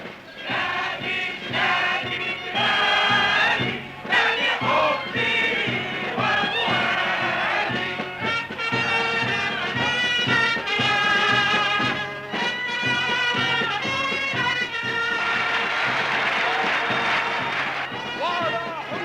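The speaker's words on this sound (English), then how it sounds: "Thousands turned out to chant and cheer in well-orchestrated chorus." A crowd of thousands at a national union rally in a poor quarter of Cairo chants and cheers in rhythmic, well-orchestrated chorus, loud and sustained throughout.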